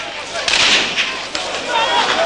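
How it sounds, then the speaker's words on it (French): Scattered gunshots ring out amid looting in a Kinshasa neighbourhood, a few sharp reports and rumbling blasts over a busy, noisy street background, with voices mixed in. "quelques coups de feu qui ne changent rien"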